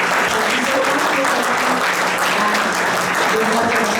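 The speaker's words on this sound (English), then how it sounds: "Give her a big round of applause." A big round of applause for a town councillor at a Hindustani classical music event, loud dense clapping from a full audience that stays steady throughout, with faint voices mixed in.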